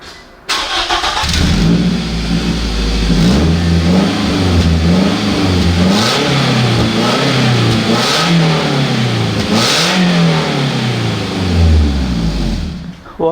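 A Scion tC with its muffler deleted starts up and revs repeatedly, loud and close, the raw exhaust rising and falling in a series of throttle blips over about twelve seconds.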